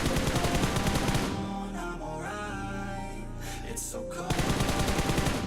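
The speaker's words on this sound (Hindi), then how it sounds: "पुचिंगी के अंदर से काफी ज्यादा गंदी गोलियां चलने की आवाज आ रही थी" Heavy automatic gunfire from a PUBG Mobile battle crackles in dense, continuous bursts, loud and close, with a brief lull in the middle before the rapid shooting resumes.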